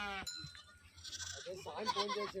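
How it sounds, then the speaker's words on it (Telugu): Goats from a flock of about seventy to eighty on an open-grazing farm in Telangana, bleating in several close, wavering cries that follow one another over a soft background. "ఇందులో మేకలు కూడా ఉన్నాయి ఫ్రెండ్స్ మేకలు వచ్చేసి డెబ్బై ఎనభై మేకలు ఉన్నాయి"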